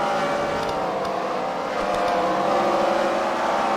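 Race cars, including a checker car, circle a track during a CWRL main event at the Freedom Factory, giving a steady, continuous engine roar from the pack that holds through the whole stretch without a break.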